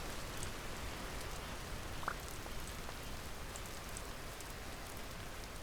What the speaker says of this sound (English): Hopefully this rain is able to put it out.